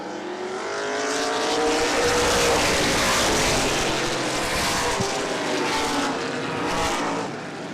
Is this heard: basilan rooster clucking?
no